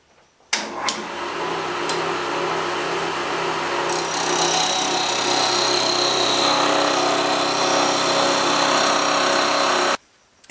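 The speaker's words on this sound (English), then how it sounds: "I'm going to part it with a putty knife." Wood lathe spinning purpleheart while a putty knife parts it, a loud continuous whirring hum with scraping hiss that starts abruptly and cuts off after about nine seconds.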